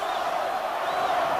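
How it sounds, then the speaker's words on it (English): A boxing arena crowd chanting the name Roy, a steady dense roar of many voices with a rising and falling sung chant, loud and continuous throughout. "Even the crowd's chanting Roy now."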